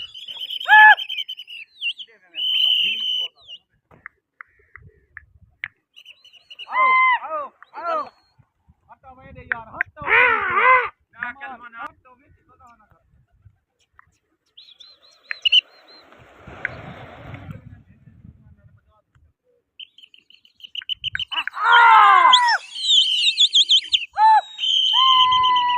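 Pigeons in a pigeon-flying contest between Kala Kaloni and Taunsa Sharif, with chirping bird calls in scattered bursts through the clip, heard outdoors amid frequent talking and background noise.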